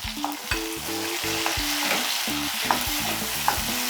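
Two medium-size chopped tomatoes hit a pan of frying onions for a Chettinad rock fish curry, giving a steady close sizzle broken by several scraping stirs, with soft tonal music running underneath.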